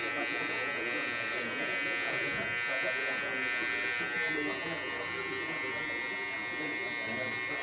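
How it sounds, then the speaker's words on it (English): An electric hair trimmer buzzes steadily, close and continuous, as it glides through hair during a mid fade buzzcut at a barbershop, with someone talking over it. "I'm just gliding the trimmer"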